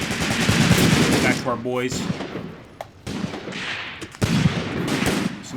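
Gunfire from trench fighting in the Graviteam Tactics: Mius Front wargame, with loud, close bursts of machine gun and rifle shots, some isolated cracks and someone talking over the battle.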